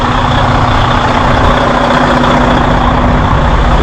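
A semi truck tractor engine idles loudly up close in the early morning, a steady low diesel rumble with no talk.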